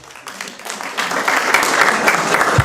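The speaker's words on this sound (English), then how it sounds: "but I guess you can't not applaud that." Applause from an audience swells from scattered claps into steady, fuller clapping that continues throughout.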